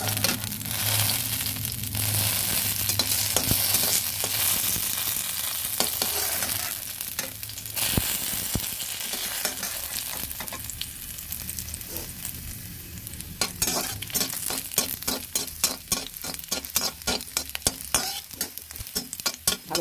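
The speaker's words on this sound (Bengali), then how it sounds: "ভালোভাবে ভাজা হলে তুলে নেব" Garlic and green chillies fry in a wok for a bottle gourd leaf mash, a close, steady sizzle with stirring scrapes that turn into rapid, rhythmic clattering toward the end.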